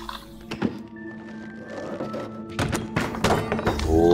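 Heavy axe strikes land in the video game Little Nightmares 2, a few dull thunking hits spaced over four seconds amid game ambience and clatter.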